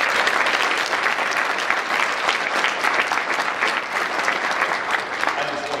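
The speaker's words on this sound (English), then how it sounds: "So y'all give them a round of applause." An audience at a school gathering gives a sustained round of applause for state representatives, with steady, evenly dense clapping throughout and faint crowd voices mixed in.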